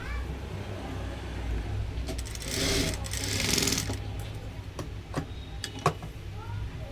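Sewing machine stitching a blouse neck strip, a steady mechanical whir that speeds up into a louder burst midway, then slows into scattered ticks and clicks, with faint speech nearby.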